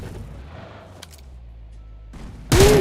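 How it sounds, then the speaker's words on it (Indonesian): Enemy gunfire in PUBG Mobile: faint, sparse game sounds give way to a sudden loud burst of shots right at the end. "ditembak musuh."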